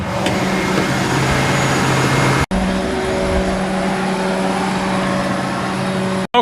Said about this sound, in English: we're just going to get it over here and rev it up a little bit